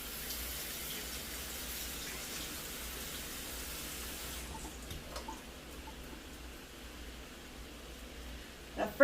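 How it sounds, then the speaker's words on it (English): Cold tap water runs steadily over beans in a fine mesh sieve, an even hiss that stops about halfway through. A few faint clinks and handling sounds follow in near quiet. "Rinse it with cold water."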